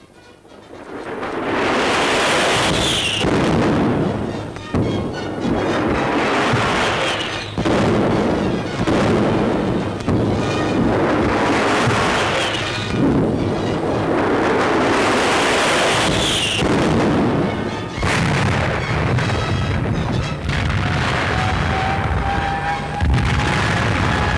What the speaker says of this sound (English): Bombs and more bombs.